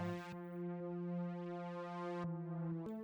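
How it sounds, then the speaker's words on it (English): A bright, sustained Omnisphere synth lead holds steady tones with rich harmonics, shifting pitch only near the end, playing alone without drums. "I added like a little lead synth underneath it"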